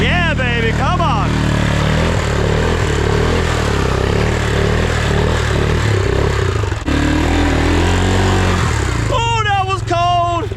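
Grizzly four-wheeler ATV pushes through deep mud, its engine loud and close with rising and falling revs and mechanical clatter, while someone speaks and exclaims over it at times.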